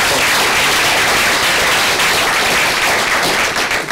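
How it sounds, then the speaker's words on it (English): Room of attendees at an elevator-pitch practice session breaks into applause, a loud, dense and steady burst of clapping for about four seconds, close and uninterrupted, with no voices over it. "Let's give a round of applause."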